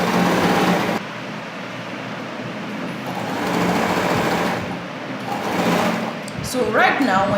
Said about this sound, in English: I will sew the casing for the elastic.